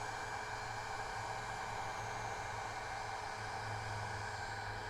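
Heat gun blowing a steady, even hiss of hot air over heat shrink tubing on a spliced wire connection, constant and close throughout with no talking.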